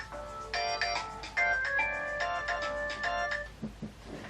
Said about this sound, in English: I can't believe this, my phone's going.